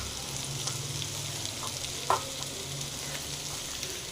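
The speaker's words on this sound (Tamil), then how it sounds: "இதை போட்டு நல்லா க்ளீனாக ஃப்ரை பண்ணிங்க." Pirandai frying with dried and fresh curry leaves and coriander, a constant crackling sizzle with stirring scrapes and one sharp clink of a utensil midway, no talking.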